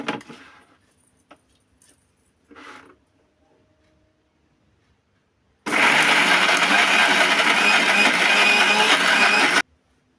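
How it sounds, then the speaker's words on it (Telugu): A kitchen mixer grinder blends tomato chutney, its motor whirring loud and steady for about four seconds after some quiet clinks and handling noises, then cutting off abruptly. "మిక్సీ చేసుకుంటుండాలండి"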